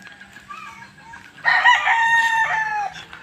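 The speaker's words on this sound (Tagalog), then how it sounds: "Ayan ang mga manok." A rooster crows loudly and close by at a chicken farm, a single drawn-out call among quieter clucking chickens.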